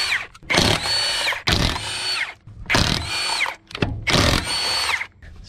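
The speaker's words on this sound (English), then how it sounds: "So let's go and bolt the front driver's side." Power impact tool runs in four strong bursts, each about a second long with short pauses between, tightening lug nuts as a tire is bolted back onto the front driver's side of a car during an at-home tire rotation.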